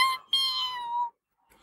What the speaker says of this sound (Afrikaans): liewe heksie, en dis my kat Matthewes